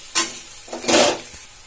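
Onion and green chilies fry in a pan with salt, a brief close sizzle with a couple of short stirring scrapes, no talk.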